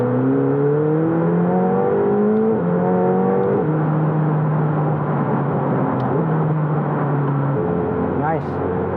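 A McLaren 720S supercar in sport mode pulls hard through several gears, its engine note climbing and dropping back at each upshift, heard steadily from inside the cabin at moderate loudness.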